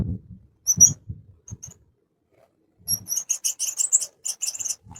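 Golden finches at a breeder's give short, high chirps, first a few isolated calls, then a quick busy run of twittering notes near the end, with soft low knocks and handling noise around them.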